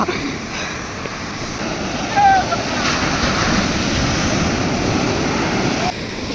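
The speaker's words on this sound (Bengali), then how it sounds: "এই ঢেউটা সেরা" Sea waves breaking on the beach at Puri, a broad rushing roar of surf with wind buffeting the microphone, fairly loud and continuous, swelling slightly midway; a voice speaks briefly over it.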